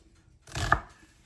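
A single sharp knife chop through onions on a cutting board, rough chopping, one close thud with a crisp attack that quickly fades.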